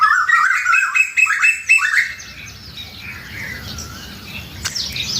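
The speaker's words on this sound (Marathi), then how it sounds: "आंब्याचा जसा मोसम सुरू होतो तसे कोकिळे हजर होतात तिथं." Asian koels calling at dawn in mango season, two birds trading rising whistled calls. Loud, close notes come first, then fainter, more distant calls over a quiet morning background, with no talking.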